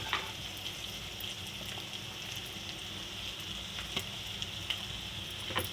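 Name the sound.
onions and green chillies frying in oil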